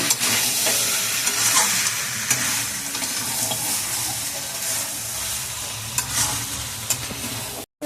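Masala with small prawns being sautéed in a pan with a splash of water, a loud dense hissing sizzle with stirring scrapes, close and continuous, cut off abruptly at the end, no speech.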